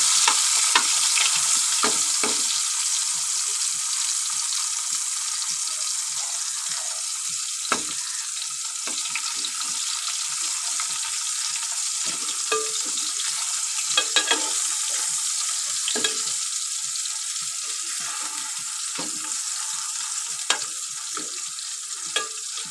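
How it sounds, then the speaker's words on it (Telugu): Dried fish fries in a pan of oil. It gives a steady bright sizzle with scattered pops and crackles and short stirring scrapes, loud and continuous with no voices. "ఇప్పుడైతే ఎండు చేపలు కూడా వేసుకొని ఫ్రై అయితే చేసుకున్నాం ఫ్రెండ్స్."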